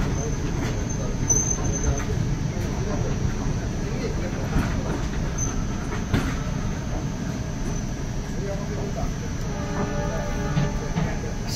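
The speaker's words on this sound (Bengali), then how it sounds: "শীতের কুয়াশা মাখা সকালে ট্রেন ধীরে ধীরে মালদা টাউন স্টেশন ছেড়ে বেরিয়ে যাচ্ছে" Malda-Howrah Intercity Express pulling slowly out of Malda Town station on a foggy winter morning, with a continuous low rumble and rattle of wheels and carriages heard from on board, steady and close throughout.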